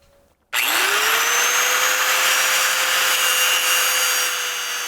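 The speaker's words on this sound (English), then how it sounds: "So we'll grind these off and get this chain the right length." An angle grinder spins up sharply and holds a loud, steady high whine while grinding the rivets off a chain link on a 2019 Triumph Tiger 800XCx motorcycle, close by and continuous.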